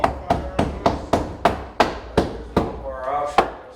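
Hammer blows while framing an interior wall against drywall, about ten sharp, evenly spaced whacks close by, with a brief voice partway through.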